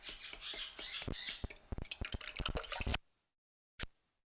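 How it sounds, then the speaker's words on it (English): Sharp, squawking bird calls burst out in a rapid cluster, then stop, followed after a pause by one more brief squawk. "there is a couple birds that you might hear"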